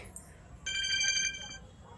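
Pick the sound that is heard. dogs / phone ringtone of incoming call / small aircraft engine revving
phone ringtone of incoming call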